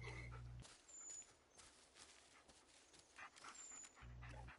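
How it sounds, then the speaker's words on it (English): A dog pants in the Blair Witch video game, a faint and steady breathing rhythm over low ambient background noise. "Dog keeps freaking me out because I'm wearing my headset with the surround sound"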